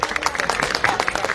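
Audience applause at an Anupama Yadav stage show held for a birthday celebration: dense, steady clapping from a crowd that fills the whole moment at moderate loudness.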